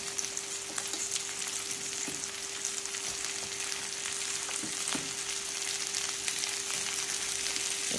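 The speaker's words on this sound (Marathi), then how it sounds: "ह्या कढईत पहिल्यांदा भेंडी फ्राय करून घ्यायची" Okra frying in oil in a wok, a steady close sizzle that crackles and hisses evenly throughout, with occasional faint pops and stirring scrapes and no talking.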